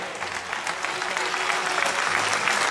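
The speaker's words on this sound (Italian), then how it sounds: "Fatemi sentire un applauso forte." Outdoor crowd applause in a town square at a football club's season presentation for L'Aquila calcio, a steady, dense wash of clapping that holds at even volume throughout.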